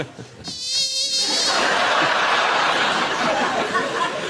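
A voice imitates a mosquito, giving a thin, wavering whine that starts after a brief pause and builds into a sustained, loud buzz lasting several seconds on a game show panel.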